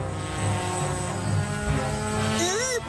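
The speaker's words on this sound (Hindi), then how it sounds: "इन्हें ड्रोन कहते हैं।" A cartoon drone whirs in flight with a steady buzzing engine tone that wavers and rises near the end, loud and close, running under animated dialogue.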